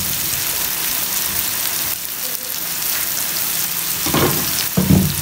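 Potatoes and tomatoes fry in a pan, a steady crackling sizzle that bursts louder near the end as a utensil stirs and scrapes the mixture, close with no talk.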